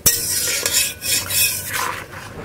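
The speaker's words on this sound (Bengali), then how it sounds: "এবার টমেটোটাকে ভালো করে কষিয়ে নিতে হবে।" Tomato with ginger-garlic paste, black pepper and spices being stir-fried in a pan, a loud close scraping of a utensil against metal in sweeping strokes over a steady sizzle.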